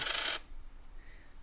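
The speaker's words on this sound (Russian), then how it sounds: "монетка падает на стол" A coin drops onto a table, a single bright metallic clink that rings briefly and quickly fades into quiet room tone.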